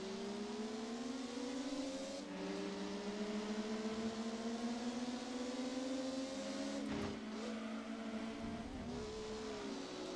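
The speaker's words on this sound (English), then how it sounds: "And listen to that engine." Steady engine drone from a car in the Gran Turismo 2 racing game, its pitch climbing slowly with revs, dropping abruptly at gear changes, then rising again, loud and alone with no talk.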